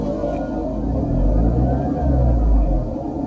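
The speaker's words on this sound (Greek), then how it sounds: "Το αυτοκίνητο από ό,τι βλέπετε έχει και γκάζι." A Mercedes SLK R171 engine runs close by with a deep, steady low rumble that swells gently as throttle is applied, with no talk over it.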